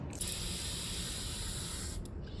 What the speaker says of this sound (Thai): หญิงก็จะฉีดสเปรย์ค่ะ